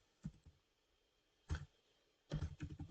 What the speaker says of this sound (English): I'm just going to type in a password really quickly.